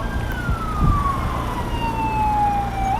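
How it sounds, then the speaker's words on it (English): A police siren wails steadily with a long, slowly falling tone, loud over low rumbling traffic noise at a cycling race. "I'm seeing the police, hearing the siren, and there it is."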